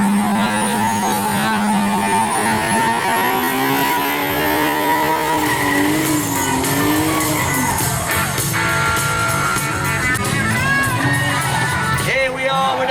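A Nissan 350Z drifts at a car show, its engine loud and revving in rising and falling sweeps, with tire squeal over crowd noise and close, continuous power.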